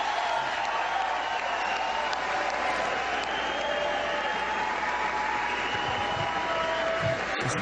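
Audience at a political event with Governor Christie claps steadily in a dense, sustained wash of applause, held at an even level throughout with no clear talk over it.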